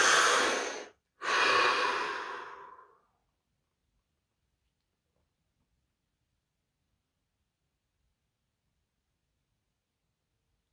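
Two deep breaths, a long inhale and then a slower exhale, sound close and clear, followed by a long stretch of silence.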